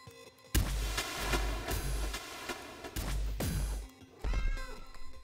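A cat meows in the Resolutiion video game, a few short calls breaking through loud, dense game music and clattering effects, with a brief quieter gap between bursts.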